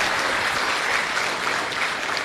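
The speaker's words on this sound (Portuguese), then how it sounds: "Quem disse amém, aplauda o Senhor Jesus" A church congregation applauding during a service, dense continuous clapping from many hands, even and sustained throughout at moderate distance.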